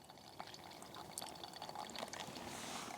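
Water is poured slowly over coffee grounds in a pour-over brewer, giving a soft, steady trickling and splashing close by, with no talking.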